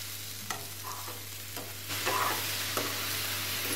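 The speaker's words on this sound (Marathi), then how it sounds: "आता छान व्यवस्थित परतून घेऊया। साखर मिक्स होईल अशी।" Sweet potato slices with sugar are stirred and sautéed in a pan: scraping spatula strokes over a steady sizzle, growing louder and busier in the second half, with no talking.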